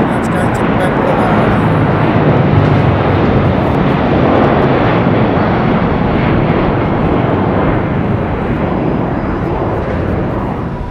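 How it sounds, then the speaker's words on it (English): A British Airways Boeing 777-200 in oneworld livery roars on take-off at Heathrow, a loud, steady broadband jet-engine rumble that holds nearly constant from start to finish. "777-200 in the British Airways."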